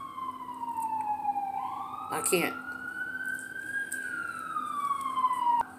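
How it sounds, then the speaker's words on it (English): An emergency vehicle siren wails nearby in a slow rising and falling sweep, loud and steady for several seconds, with a brief burst of talk partway through. "So yeah, the siren goes off."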